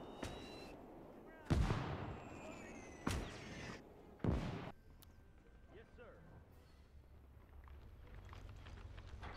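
Explosions from the Gates of Hell video game's Liberation campaign, Operation Cobra: three heavy booming blasts in the first five seconds, followed by lighter crackling and rumbling battle noise, while someone talks over it.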